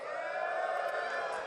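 Esports fans in the crowd at the Cloud9 vs 100 Thieves grand finals of Red Bull Home Ground raise a steady, dense roar of cheering and voices that holds at an even level throughout.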